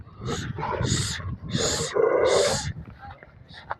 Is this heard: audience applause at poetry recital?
no